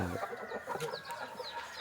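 Hens and chicks cluck and peep from inside a backyard chicken coop, with a steady run of close, overlapping clucks and thin high chirps.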